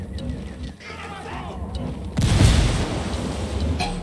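In the video game Ghost Recon Wildlands, a frag grenade explodes partway through with one heavy, close boom. A lower rumble of game ambience comes before it, and the blast fades into a long rolling tail.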